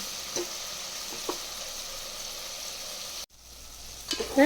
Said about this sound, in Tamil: இதோட நம்ம ரெண்டு தக்காளி சேர்த்துக்கிடுவோம் தக்காளி நல்லா வதங்கட்டும்